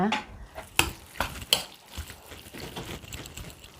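Fresh milk and cornstarch stirred together in a bowl for a garlic-pepper pork marinade, with a few sharp clinks of spoon against the dish over a soft, steady scraping.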